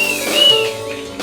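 Several whistles from a church congregation at an Easter Sunday service, shrill sliding tones overlapping over a loud crowd murmur, close and energetic.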